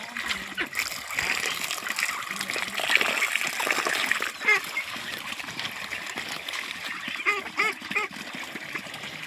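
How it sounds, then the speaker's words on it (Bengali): Ducks dabble and splash in water set out for them in a yard, a busy wet slurping and splattering with a few nasal quacks popping out, and a faint voice in the background. "এই যে একটু পানি দেবো, আর হাঁসগুলো দেখবেন বন্ধুরা কীভাবে খাবে।"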